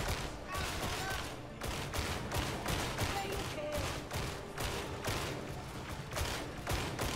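Rapid, dense gunfire from the video game Warhammer 40,000: Darktide, a steady barrage of overlapping shots sustained throughout, loud and continuous with a player firing at a crowd of enemies.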